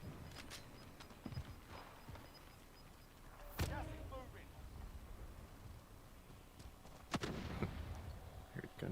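Gunshots from a sniper ring out in a video game as two sharp, loud cracks a few seconds apart over quiet game ambience, with players talking.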